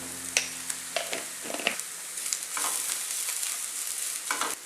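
Meat filling for Malabar erachi pathiri being stirred with a ladle in a pan, a low sizzle punctuated by repeated scraping and knocking strokes close by.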